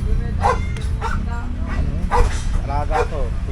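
A small dog barks and yips several times, sounding somewhat distant, over a steady engine-like rumble with people talking at an outdoor motorcycle parts market.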